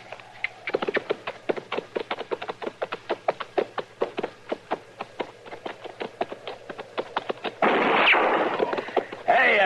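Rapid volley of gunshots fired at riders approaching a campfire in a radio drama, a long train of sharp close cracks about every quarter second, ending in a louder sustained burst.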